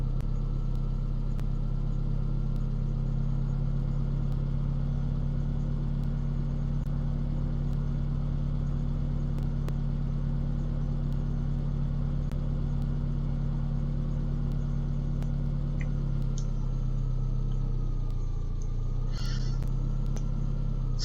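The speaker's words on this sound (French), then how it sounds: "C'est pas facile de conduire avec cette voiture." Car engine in the Farming Simulator 17 video game, a steady mid-pitched hum held at constant revs for about twenty seconds, even and close, with a brief dip near the end and no talk.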